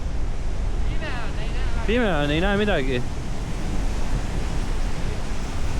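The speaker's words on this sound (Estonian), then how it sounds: "Ei sellise laineid küll Eestis ei näe." Ocean surf on an Australian coast, a continuous broad wash of breaking waves and wind buffeting the microphone, with someone speaking briefly midway through.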